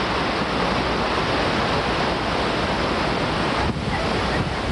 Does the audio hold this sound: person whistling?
no